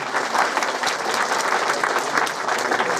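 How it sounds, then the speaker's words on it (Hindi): Villagers applauding to welcome the MLA at a village gathering in Chamba, a steady wash of many hands clapping outdoors, moderately loud and continuous throughout. "मैं विधायक महोदय का यहाँ पर पधारने पर जोरदार तालियों से इनका स्वागत करता हूँ।"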